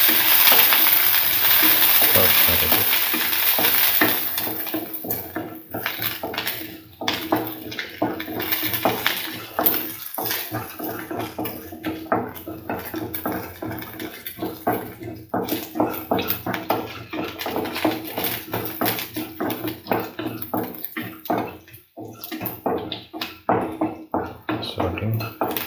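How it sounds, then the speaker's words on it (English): Cucumber being sautéed in a pan for coconut stew, a steady close sizzle with stirring taps and scrapes, loudest in the opening seconds and then settling into a softer continuous fry. "Saute."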